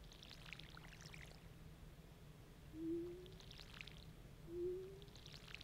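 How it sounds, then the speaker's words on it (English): Crops get watered in Stardew Valley on iOS, with soft game sound effects: faint splashy pours recurring about every couple of seconds over a low, quiet background hum. "let's just water everything then."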